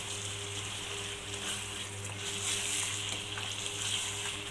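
Pepper chicken sizzles steadily in a pan as it is stirred, with a constant hiss of frying and faint scraping, close and even throughout with no voices.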